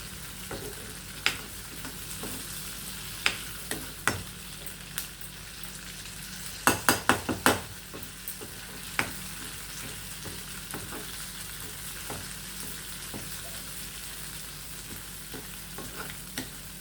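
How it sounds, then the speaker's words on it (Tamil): Sundakkai (turkey berries) frying in coconut oil in a pan, a steady close sizzle throughout with occasional sharp pops and a quick cluster of crackles midway. "நான் இன்றைக்கி தேங்காய் எண்ணெயில் தான் வணக்கியிருக்கேன்"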